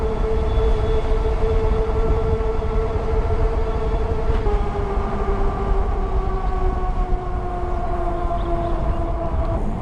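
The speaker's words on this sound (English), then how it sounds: "They got a train over here." A train passes near Ko Olina on Oahu. A sustained tonal horn-like wail slides slowly downward over a steady low rumble, with no voices.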